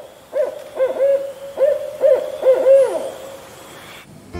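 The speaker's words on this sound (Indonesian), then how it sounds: "Owl. Nah, ini namanya burung hantu." An owl hoots in a series of about seven tonal calls, some doubled, spaced irregularly and heard clearly and fairly close against a quiet background, ending with a short fade.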